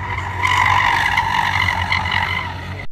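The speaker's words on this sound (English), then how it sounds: "listen to the car go around the corner and it's basically nothing but tire squeal" Front tires squeal steadily as a car understeers through a corner, a loud, sustained screech with engine drone beneath, holding for about three seconds without talk.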